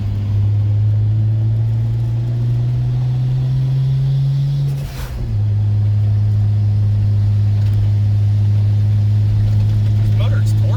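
A 1995 Nissan Skyline GTS-T engine idling loud and close with a steady low hum, briefly dipping in pitch midway before settling back to an even idle.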